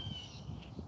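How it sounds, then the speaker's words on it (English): Crows cawing among neighborhood trees during a walk, a few distant harsh calls over steady outdoor background noise. "you can hear those birds chirping"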